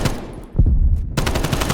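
Gunfire in a shooter video game: a dense burst of rapid shots, loud and close, fills the short stretch, with the firing continuing through to the end.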